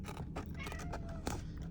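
A cat meows faintly a couple of times against a steady background hum, soft and somewhat distant.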